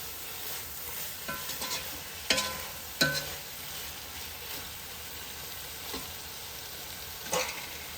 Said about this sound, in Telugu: ఇంక ఇందులో ఇప్పుడు మనము చిలికిన పెరుగు వేసుకుందాం.